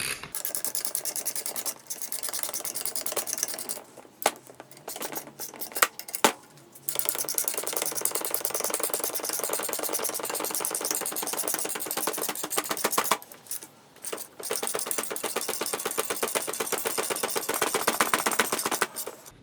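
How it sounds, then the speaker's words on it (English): MacPherson strut spring compressor tool being cranked down on a coil spring, a rapid ratcheting clicking in bursts with short pauses and a few metallic knocks, close and loud, no speech. "we have a completely compressed coil spring on the tool"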